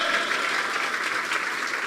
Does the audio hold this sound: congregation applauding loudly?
yes